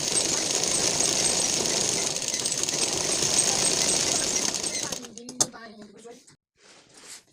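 A sewing machine stitches a blouse sleeve with a double seam, a steady dense mechanical rattle running loud and continuous for about five seconds, then stopping abruptly, leaving a few brief clicks and faint sounds.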